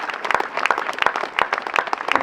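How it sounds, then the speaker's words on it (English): Scattered clapping from a modest outdoor crowd at a statue unveiling, thanking fundraising contributors, with distinct individual claps in a loose rhythm at moderate distance. "Could we give all of those contributors a round of applause, please?"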